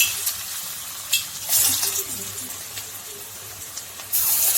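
Food sizzles in hot oil with bursts of hissing spatter as pieces go in, plus occasional soft clinks, no talking.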